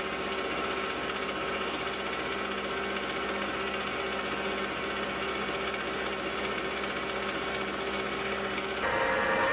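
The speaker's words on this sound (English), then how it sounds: "I'll clean it up in the mill, and then I'll use the mill to cut a step down." A milling machine cleans up a metal part in a home workshop, a steady mechanical whir and hum holding evenly and moderately loud, cutting off abruptly near the end.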